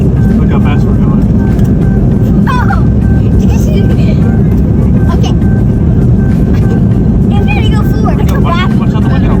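Inside a passenger airplane accelerating down the runway for takeoff, a loud steady cabin roar of engines and rumble fills the space while people talk over it.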